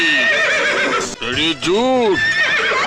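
Horses whinny repeatedly in a loud, close, high-pitched neigh with rising and falling squeals, set against a dense background that keeps going throughout.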